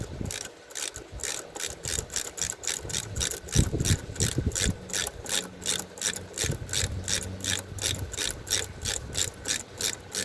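A ratchet cinches down a 10 mm hose clamp on a cold air intake in a Mazda CX-30 Turbo. It gives a steady run of close, crisp pawl clicks that keeps going the whole time, with some dull knocks of the tool mixed in.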